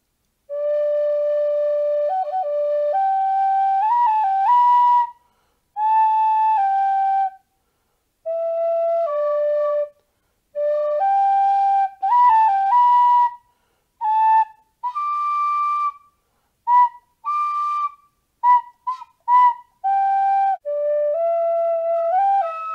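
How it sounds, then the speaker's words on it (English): A tin whistle plays a melody of clear, bright phrases with short pauses between them, close and alone with no talking. "I picked up the tin whistle"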